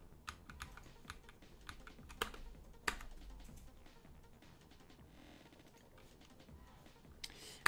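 Typing on a computer keyboard that has begun acting up, faint irregular bursts of key clicks with a few sharper louder taps, heard alone in a quiet room.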